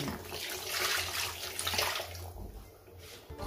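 Water pours steadily into a cooking pot of beef in a home kitchen, a close, continuous splashing rush that thins toward the end.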